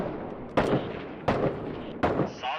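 Gunshots in Six Days in Fallujah: three sharp, loud reports spaced under a second apart, each with a short echoing tail, standing out against quiet background ambience.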